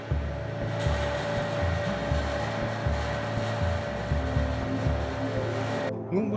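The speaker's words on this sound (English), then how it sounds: "Finally, the vacuum is activated." A vacuum forming machine runs while shaping a clear thermoplastic prosthetic test socket, giving a loud steady mechanical hum and whir with rhythmic pulsing throughout before cutting off abruptly near the end.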